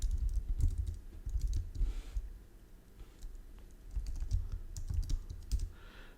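Commands typed on a computer keyboard, heard as irregular bursts of close, crisp key clicks with short pauses between runs and no voices.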